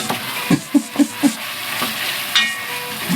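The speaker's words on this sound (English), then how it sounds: "I'm going to get this flour mixed around good before I put all that broth in here" Flour is whisked into a roux in a pot for tomato bisque: four quick, distinct scraping strokes close by, then softer stirring under a faint low sizzle.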